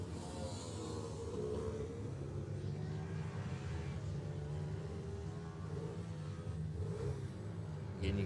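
Small-engined racing mini bikes on qualifying laps at an Irish Mini Bike Championship race give a steady, moderately loud engine drone that swells slightly as machines pass, with no talk over it.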